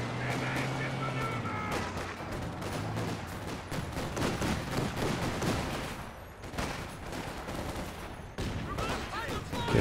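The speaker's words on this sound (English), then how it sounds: "There's a flak half track. Shooting that penal squad straight away." Rapid, heavy flak cannon fire from a flak half-track raking an infantry squad in Company of Heroes 2, a dense, continuous battle din of overlapping shots and blasts lasting throughout.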